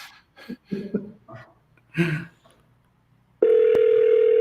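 A telephone dial tone on a cold sales call starts abruptly after a few seconds of brief, faint talking, then holds loud and steady to the end.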